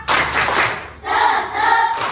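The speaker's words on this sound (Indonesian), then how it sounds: "Coba tepuk semangat." A school class doing the rhythmic 'tepuk semangat' spirit clap, two bursts of group clapping and chanting in a classroom, separated by a short pause.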